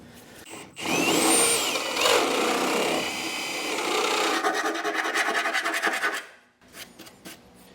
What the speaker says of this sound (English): I've also come back with a file, clean those up, make sure there's no little burrs sticking out